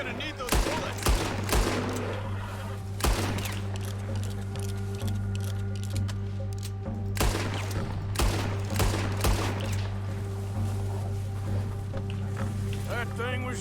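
Rapid gunfire shooting at a bear in Red Dead Redemption 2, several loud bursts of shots spread across the clip with echoing tails, mixed with game ambience and voices.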